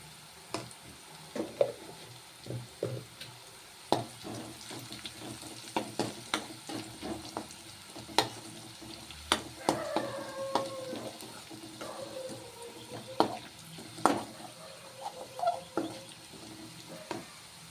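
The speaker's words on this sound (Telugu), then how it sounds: "నెక్స్ట్ ఇవైతే మంచిగా ఫ్రై అయిపోయినాయి" Ingredients for puffed rice upma sizzling gently in a pan while a spoon scrapes and stirs in irregular clatters, close and fairly quiet, with no talk.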